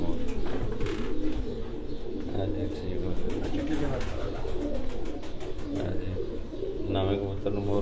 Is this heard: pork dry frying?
no